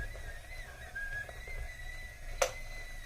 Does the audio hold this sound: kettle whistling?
yes